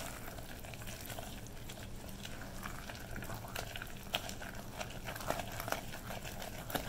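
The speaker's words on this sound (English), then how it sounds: "See how it foams?" Peanut brittle mixture foaming and bubbling just after baking soda is stirred in, a steady dense crackle and fizz with occasional sharper pops, close and continuous throughout.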